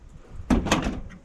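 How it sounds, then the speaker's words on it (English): A 1994 Ford Bronco's car door shuts with a single solid thump, close and fairly loud, followed by a short fading rattle. "Door shutting."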